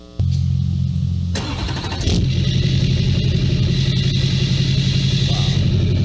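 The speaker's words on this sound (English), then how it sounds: "And that's a diesel Chevrolet truck." A diesel Chevrolet truck engine cranks briefly and fires up, then settles into a loud, steady, rumbling idle close by, following a short stretch of low background hum.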